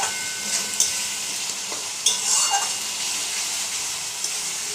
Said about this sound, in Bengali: মশলাটা কষে নিচ্ছি।